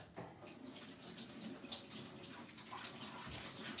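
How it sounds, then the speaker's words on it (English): Bananas are rinsed under a running kitchen tap: a steady, close rush of water splashing over the fruit, continuous and fairly even, with no voices. "So make sure you wash your fruits,"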